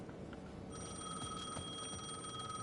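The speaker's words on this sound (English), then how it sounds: "The payphone at the edge of the plaza was ringing again." Payphone ringing in Alan Wake 2, a faint steady electronic ring that starts shortly after the beginning and carries on alone.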